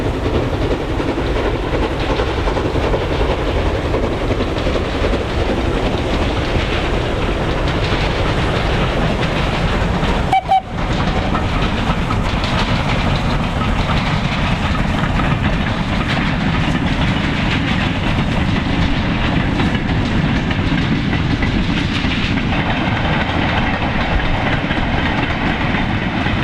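A Jinty steam locomotive and its train roll past on the East Lancashire Railway at Horncliffe, a loud, steady rumble and clatter of wheels and carriages that holds for the whole passage.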